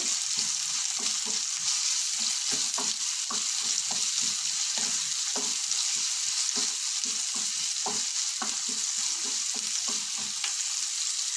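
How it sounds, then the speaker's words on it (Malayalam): Chopped onion and chilli sizzle steadily in hot oil in a pan while a utensil scrapes and stirs in irregular bursts, close and continuous, with no talking. "അരിഞ്ഞു വെച്ചൊരു സവാള അതിലേക്ക് ഇട്ടിട്ട് ഒന്ന് ഇളക്കി കൊടുക്കുക അതിനുശേഷം അരിഞ്ഞു വെച്ച മുളക് അതിലേക്ക് ഇട്ട് കൊടുക്കുക"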